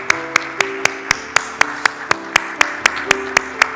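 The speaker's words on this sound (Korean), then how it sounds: "우리 한번 큰 박수로 축하해 주시기를 바랍니다" During a Sunday worship service, a congregation claps together in a crisp, evenly spaced rhythm of sharp beats, with sustained keyboard tones ringing underneath.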